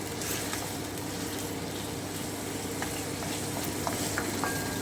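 Marinated chicken pieces fry in hot oil in a pan over medium heat, giving a steady, close, continuous sizzle with faint crackles and no talking.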